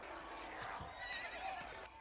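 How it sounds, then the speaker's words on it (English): Horses neigh and whinny from a TV show, shrill squealing calls mixed with hoof clip-clop and a dense, noisy background, fairly loud throughout. "Poor horses, man."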